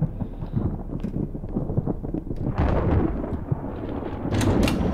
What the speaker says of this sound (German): Da das Gewitter so heftig.